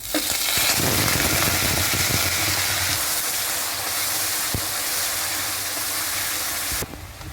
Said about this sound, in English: Add my onions in it.